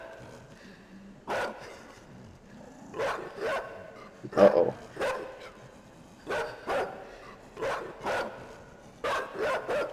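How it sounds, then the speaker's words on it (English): A dog in the video game Inside barks repeatedly in irregular bursts, fairly close and loud over a dark ambient background, while a man briefly exclaims once. "Oh, it's a dog."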